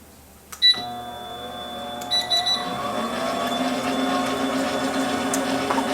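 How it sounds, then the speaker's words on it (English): Three large egg whites being whisked until foamy with an electric mixer in a home kitchen: a couple of short beeps, then a steady motor whir that runs on without a break, close and fairly loud, with no talking. "I have 3 egg whites from large eggs that I'm going to whisk until they get foamy"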